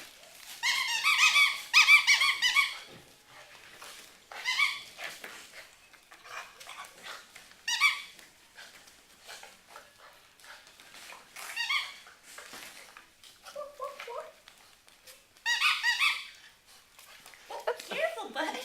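A puppy whimpers and squeaks close by in repeated short, high-pitched bursts separated by quiet pauses.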